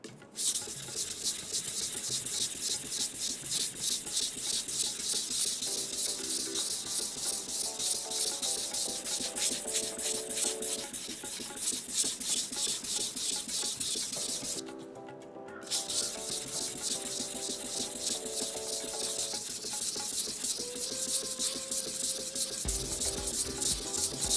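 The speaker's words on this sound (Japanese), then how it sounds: "これ旋盤で、普通の旋盤なんですけど、今ちょっとこの SPG ストリックスが出てる部分削ってみたんですけど" Ordinary lathe cutting into SPG STRIX knife steel, a steady close hissing rasp that runs almost without a break, briefly dropping out partway, with soft music playing underneath.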